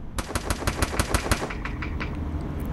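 Automatic gunfire in the video game Free Fire, a rapid burst of about ten evenly spaced shots, loud and close, then a brief fading echo.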